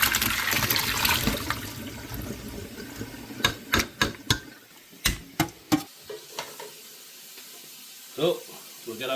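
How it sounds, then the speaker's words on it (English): Cooked potatoes for leek and potato soup are drained: a rushing pour of water fades into a series of close, sharp knocks and clatters of a pot and colander, ending with a short splash. "Now we'll drain our potatoes."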